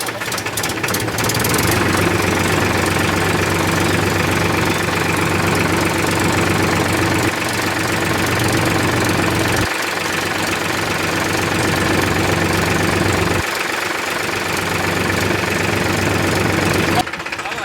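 A farm tractor engine idles in a field, a steady low knocking rumble that stays loud and close, with people talking over it.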